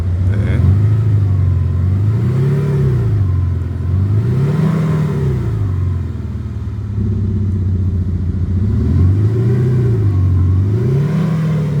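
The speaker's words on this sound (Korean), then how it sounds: "8기통의 아, 어, 우렁찬 또 아주 멋있는 배기음을 만들어주고요" A Chevrolet Colorado pickup with an aftermarket V8 exhaust roars through repeated rhythmic revs, rising and falling again and again, loud and close.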